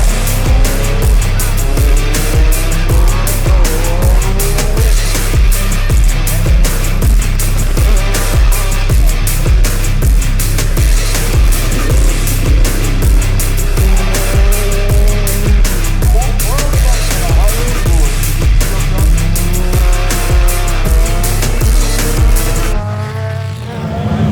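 Rallycross cars race hard around a track, their engines roaring loud and continuous with rapid gear-change pulses and tyre noise, close and sustained almost throughout before cutting off near the end.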